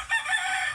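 A rooster crows once on a farm in the countryside. The call is short, clear and fairly close, with no other sounds around it.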